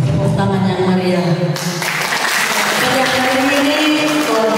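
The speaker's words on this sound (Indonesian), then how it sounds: "Terima kasih atas tepuk tangan yang meriah." Applause breaks out from an audience of nearly 2,000 at a Golkar party campaign rally, swelling into loud, dense clapping after about a second and a half over sustained musical tones and a voice.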